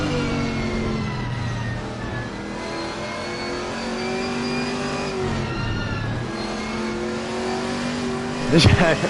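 Race cars lap a multi-class race at Oulton Park in Assetto Corsa Competizione on PS5, engines droning and revving continuously as several cars pass close by, with a sharp burst near the end.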